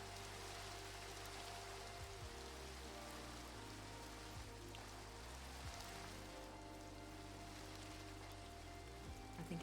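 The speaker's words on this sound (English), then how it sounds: "I think it's just raining." Steady rain patters in a Minecraft game world, a broad continuous hiss with no pauses, holding at an even, moderate level throughout with soft low tones running beneath it.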